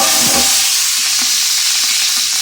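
Garlic and rough-cut onion chunks hit a hot pan for a smoked brisket chili, making a loud, dense hiss and sizzle throughout, with a few faint stirring knocks beneath it.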